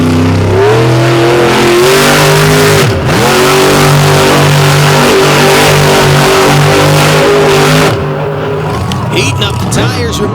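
A monster truck engine revs hard at a nighttime competition by Lake Erie while the driver heats up the tires, a loud, sustained roar with shifting pitch, briefly dipping mid-run, under an announcer's voice and crowd noise.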